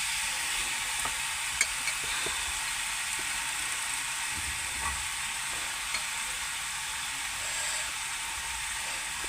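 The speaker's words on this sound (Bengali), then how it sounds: "এখন আমি দেখো সবজিটাকে ভালো করে নাড়িয়ে নেব" Vegetables being stirred and sautéed in a pan, a steady soft sizzle with a few faint scrapes and ticks from the stirring, quiet and even throughout with no talking.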